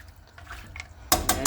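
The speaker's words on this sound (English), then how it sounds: "we're going to add water now inside and let it simmer" Water is poured into a pot of mutton soup, a sudden splashing gush near the end that starts abruptly after quiet kitchen clatter and continues loud and close.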